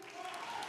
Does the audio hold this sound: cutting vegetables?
no